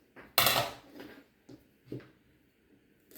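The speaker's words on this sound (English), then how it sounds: "I'm using my crock pot. I'm just going to throw those straight in there." Fresh green beans clatter into a crock pot in a home kitchen, one loud scattered rattle followed by several smaller taps and knocks, close and distinct against a quiet background.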